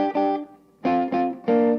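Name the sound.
electric instrument phrase in thirds and fourths intervals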